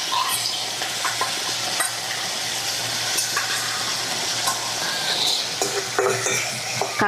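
Fresh river fish frying in a hot pan while a utensil stirs and scrapes it, with a steady, close sizzle running throughout and occasional metallic clinks.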